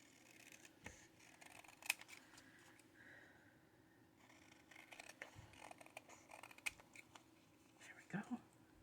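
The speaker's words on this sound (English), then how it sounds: "Probably need to pull up my smaller scissors there." Small scissors trimming paper make quiet, sparse snips and light rustles. The faint cuts come at irregular moments against a soft background hush.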